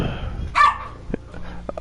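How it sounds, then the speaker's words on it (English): A pet dog lets out one sharp, fairly loud bark close by, followed by scattered quieter clicks and thumps in the room. "Sorry, dog barking"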